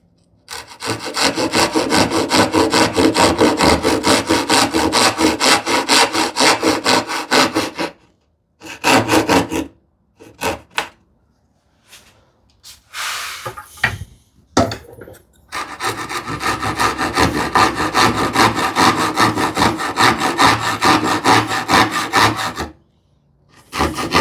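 A fine-toothed crosscut hand saw rasps through a small piece of wood in quick, even back-and-forth strokes, close and loud, pausing twice with a few scattered scrapes before sawing resumes steadily.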